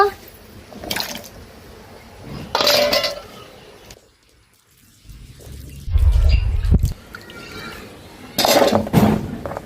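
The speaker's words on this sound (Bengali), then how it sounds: "আলুগুলো কাটা হয়ে গেছে, এখন ধুয়ে নিব।" Cut potato strips are swished and rinsed in a bowl of water, giving splashy, sloshing bursts of liquid with clinks, separated by short quiet pauses and faint background voices.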